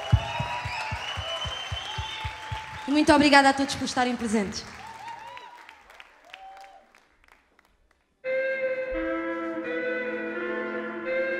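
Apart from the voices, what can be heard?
concert audience applause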